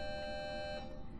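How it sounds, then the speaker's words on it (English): A school bell rings in a classroom with a steady electric buzzing tone that holds for about a second before cutting off, fairly loud with no voices over it. "There's our bell"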